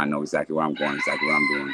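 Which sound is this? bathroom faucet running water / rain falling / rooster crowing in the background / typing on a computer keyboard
rooster crowing in the background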